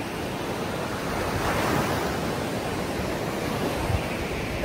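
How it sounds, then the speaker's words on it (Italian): Sea waves washing steadily onto the Black Sea coast in Turkey in grey winter weather, a continuous broad roar of surf with some wind, fairly loud and close, with no voices. "Questo bel rumore delle onde del mare"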